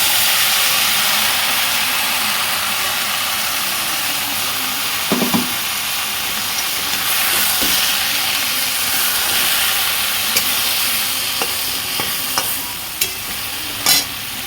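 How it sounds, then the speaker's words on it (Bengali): Mustard, poppy seed and green chili paste sizzles and steams steadily in a pan, a continuous loud frying hiss broken by a few brief stirring scrapes and clinks, with no talking. "সর্ষে পোস্ত কাঁচা লঙ্কা দিয়ে পেস্টটা দিয়ে দিচ্ছি।"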